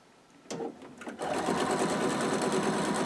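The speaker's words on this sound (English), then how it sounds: "So now I'm going to sew these pieces straight down." A sewing machine stitches quilt pieces straight down, starting after a few handling clicks and then running as a steady, close, rapid mechanical whir to the end.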